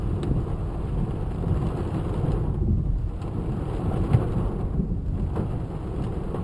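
A thunderstorm with heavy rain at Crystal Lake, caught from a moving car: a steady, loud roar of rain and wind with a low rumble throughout and one short thump near the middle. No one speaks.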